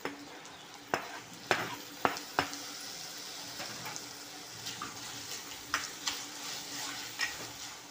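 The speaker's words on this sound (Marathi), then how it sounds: "तर टोमॅटो परतून झालेला आहे" Tomato and coriander being stirred and sautéed with browned onions in a pan, low sizzling beneath a series of sharp spatula scrapes and knocks against the pan, without voices.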